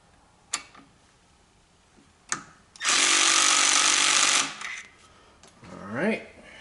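A power driver fastens Torx screws on a Briggs & Stratton carburetor, a loud whirring burst of about a second and a half between a few sharp clicks and knocks.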